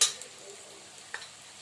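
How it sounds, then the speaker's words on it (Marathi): A spice masala for methi amti sautés in a pan with a faint, soft sizzle, and a light stir or scrape sounds near the start. "आपला मसाला छान परतून घेऊया आपण।"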